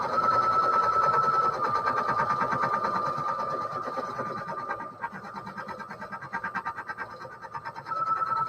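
An embroidery machine runs continuously, stitching in a fast regular mechanical rhythm over a constant high whine, with a brief slowdown midway before it picks back up.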